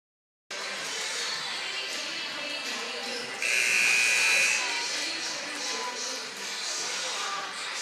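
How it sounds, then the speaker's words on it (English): A basketball game buzzer horn sounds at a girls' regional championship at Ft. Cobb, one sustained tone lasting about a second over loud gym crowd noise and commentary. "First horn is sounded."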